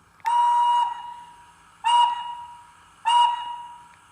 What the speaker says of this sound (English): That's a nice little whistle.